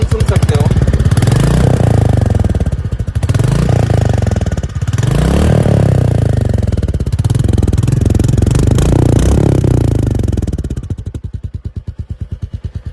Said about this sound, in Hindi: तो यहाँ पे आप एग्जॉस्ट की साउंड सुन सकते हो।